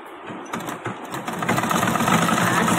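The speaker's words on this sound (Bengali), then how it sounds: "এক পাশটা তো মেশিনে সেলাই করি আর এক পাশটা হাতে করি" A sewing machine stitching the fall border onto a sari, running in a fast, even mechanical clatter that starts hesitantly and settles into a steady rhythm, close and without talk.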